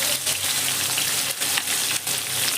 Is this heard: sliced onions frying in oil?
yes